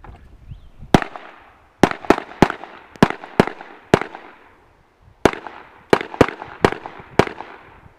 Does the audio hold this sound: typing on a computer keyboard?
no